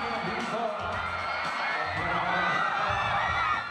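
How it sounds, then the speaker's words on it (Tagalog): A large crowd cheers and screams loudly for performers on stage at a celebration, a dense sustained roar of high-pitched shrieks and whoops with a voice talking over it. "Malakas na hiyawan din ang isinalubong"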